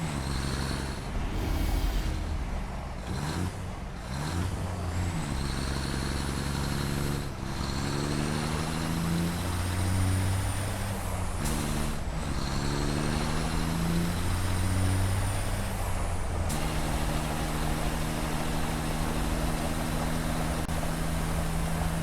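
A truck in the factory-building game Satisfactory drives steadily with a loud, close engine drone. The engine revs rise and fall through several gear shifts, with an air-brake-like hiss partway through, and then settles into a constant hum.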